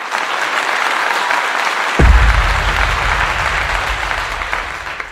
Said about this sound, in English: I give you a clap.